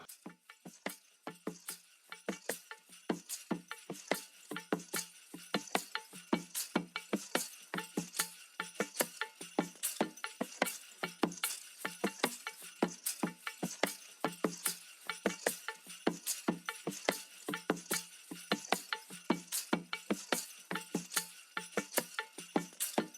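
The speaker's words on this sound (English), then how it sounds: "Alright, next, found a percussion loop," A busy, looping percussion pattern of crisp, clicky hits repeating in a fast steady rhythm, moderately quiet and with no voices.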